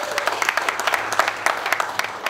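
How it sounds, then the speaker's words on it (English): A crowd at a prize giveaway event claps steadily in a dense, close burst of applause, with scattered faint voices underneath. "Let's give him a round of applause."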